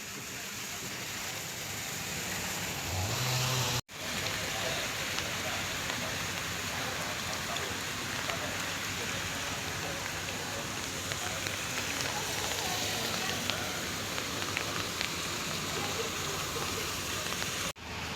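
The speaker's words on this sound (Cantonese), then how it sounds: "下雨了喂。" Steady rain falls and patters on surfaces for the whole stretch, a dense even hiss with a brief break near the start, heard on a road trip in the Seremban area of Malaysia.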